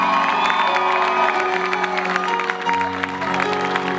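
A concert audience applauds and cheers for the keyboard player, a dense wash of clapping with whoops and shouts while sustained keyboard and band tones ring on underneath.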